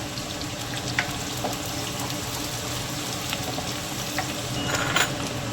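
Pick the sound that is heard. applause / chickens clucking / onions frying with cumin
onions frying with cumin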